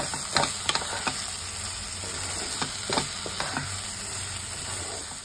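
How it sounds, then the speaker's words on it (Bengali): Soybean paste and spices stirred in a hot frying pan, with scraping spoon strokes at an irregular rhythm over a steady close sizzle. "এবার মশলার সাথে ভালো করে মিশিয়ে নেব।"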